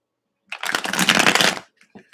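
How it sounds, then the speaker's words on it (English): A single quick riffle of playing cards being shuffled, a crisp burst of flapping for about a second, close and alone. "One more shuffle."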